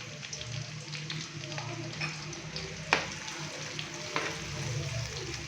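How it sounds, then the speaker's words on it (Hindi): Finely chopped onions frying in hot ghee for mutton pulao, a soft continuous sizzle close by with a few brief clinks and stirring bumps, quiet and without speech. "अभी मैं इसके अंदर 2 अदद नॉर्मल साइज के बारीक कट किए हुए प्याज डालूंगा।"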